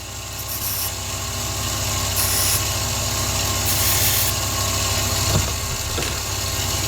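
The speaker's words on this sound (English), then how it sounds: "So I'll turn on the lathe and mark these." A wood lathe runs steadily with a constant motor hum and vibration, loud and close, with a couple of brief knocks as turned angel ornament blanks are marked while spinning.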